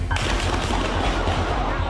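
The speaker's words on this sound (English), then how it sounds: "The first crack of gunfire." Gunfire rings out during an ambush on police on a Dallas street, a sudden dense burst of loud, crackling noise that starts abruptly and carries on harshly for the rest of the moment.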